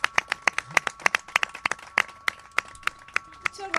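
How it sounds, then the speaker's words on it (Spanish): A small studio audience on a Spanish radio program claps, with sharp individual hand claps scattered irregularly over a few seconds, fairly quiet and close, with a faint voice in the background. "Pues un aplauso para todas vosotras"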